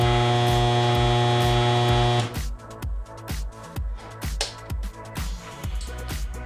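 A homemade spot welder built from a DVD player gives off a loud, steady electrical hum, which then breaks into a series of rhythmic buzzing pulses, roughly two per second, as welds are made.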